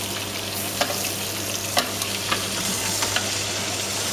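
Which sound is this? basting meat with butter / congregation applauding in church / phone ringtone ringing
basting meat with butter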